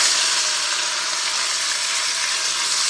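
Beef and pork pieces for karjalanpaisti sizzle steadily as they brown in melted, browned butter, a loud, continuous hiss of frying with no talk.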